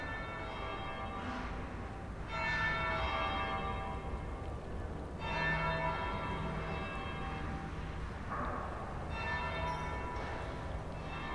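Church bell tolling in the Dragon Age Inquisition game, several slow, resonant strikes spaced a few seconds apart, each ringing out and decaying over a soft background ambience.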